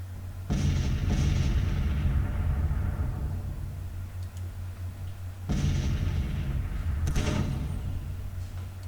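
Civil War artillery cannons firing in a strategy game, two loud booming volleys about five seconds apart, each followed by a long rumbling decay.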